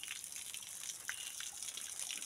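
Steady rush of spring water flowing on a forest walk, a continuous broadband gush with no voices over it, even and moderately close throughout.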